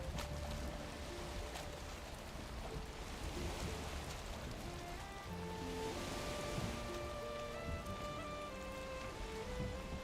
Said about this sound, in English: Rain getting heavier.